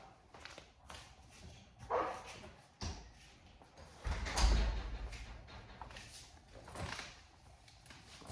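A dog barks in short, scattered bursts at a ball, loud and close, with thumps and clatter between barks in an otherwise quiet room.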